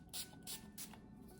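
Three short hissing spritzes of a Tower 28 face setting spray, evenly spaced, close and fairly soft, with no talk.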